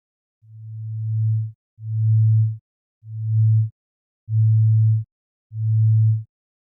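Five steady low sine tones, each about a second long, separated by short silences; pure and hum-like, with some fading in and others starting abruptly.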